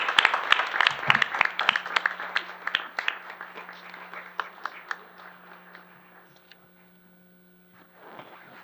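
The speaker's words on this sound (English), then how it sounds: "Let's give them one more round of applause." Audience applause at an IPS board meeting, a dense burst of clapping that is loud at first, thins out and fades to near silence, with a few scattered claps returning at the end.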